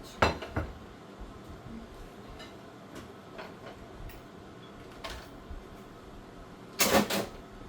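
Dishes and pans clatter into a sink in a few scattered bursts, with a louder clang near the end, in an otherwise quiet room.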